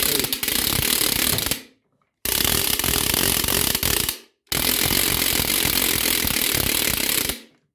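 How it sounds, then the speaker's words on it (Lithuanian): A wooden ratchet rattle of apple and hazel wood is spun in three bursts, each a loud, dense, rapid clattering lasting about two seconds, separated by brief silences. "Į šią kolekciją įeina terkšlė, irgi iš obels ir lazdyno medienos."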